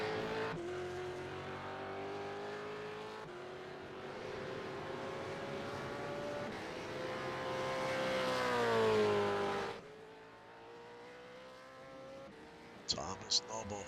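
Supercars in the iRacing game at Phillip Island Circuit, heading onto pit road: a loud, sustained engine whine from the car holds steady, then falls away and other car noise drifts by, with brief clicks near the end.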